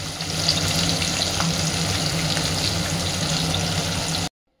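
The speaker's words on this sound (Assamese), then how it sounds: "সেইফালে মাছ ভাজিছোঁ" Fish fries in a pan for a sour fish curry, giving an even, close sizzling hiss that holds steady for about four seconds before cutting off abruptly.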